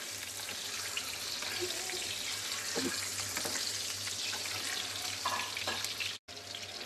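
Olive oil sizzles steadily in a pan for an egg bhuna, a continuous hissing crackle with faint clinks, heard up close with no talking.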